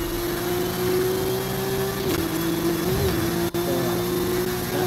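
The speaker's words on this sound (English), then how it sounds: "That Porsche engine sounds sweet, don't it?" Porsche engine in a Forza Horizon 5 rally car revving steadily with a sustained droning tone that rises slightly around the middle, loud and continuous without talk.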